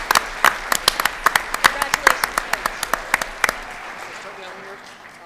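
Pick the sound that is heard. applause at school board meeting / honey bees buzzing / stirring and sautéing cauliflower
applause at school board meeting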